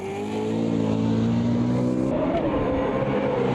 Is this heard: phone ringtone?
no